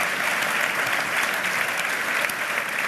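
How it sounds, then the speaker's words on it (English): A conference audience applauds steadily in dense, even clapping that fills the whole stretch at a constant, fairly loud level, with no voices rising above it. "Ladies and gentlemen, please a round of applause."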